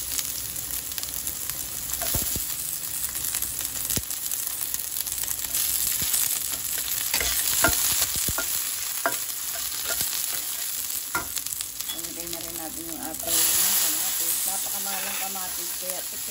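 Onions sauté in a pan with a loud, dense sizzle throughout, punctuated by scattered clicks and spatula scrapes, and the hiss swells briefly toward the end.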